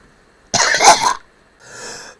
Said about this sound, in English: likes coughing into the microphone